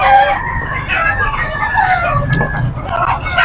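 A fighting cock crows loudly and close at a busy pet market in Bocaue, Bulacan, the drawn-out crow rising above background chatter and other fowl.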